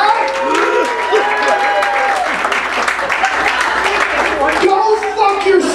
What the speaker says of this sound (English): Non-smokers, make a little noise tonight.